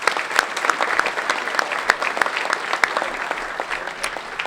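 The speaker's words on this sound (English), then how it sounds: "one round of applause, please." Steady applause from diners greeting the head table at a Transportation Club awards dinner, a dense even round of clapping throughout with sharp individual claps standing out.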